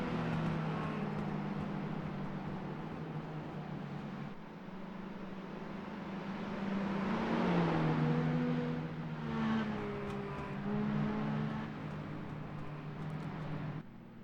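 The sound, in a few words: racing video game cars revving engines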